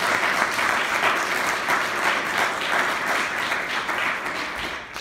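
A room full of people at a town's State of the Town address breaks into warm, continuous applause, dense and even clapping held for several seconds.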